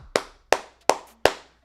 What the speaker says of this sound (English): clap it up to them